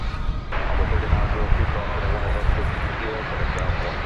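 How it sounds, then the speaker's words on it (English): A Beech 1900C turboprop arriving from Lubbock, Texas, at DFW Airport gives a steady, loud broadband engine roar that holds throughout, with a voice talking over it. "A Beech 1900C went through your picture there, coming in from Lubbock"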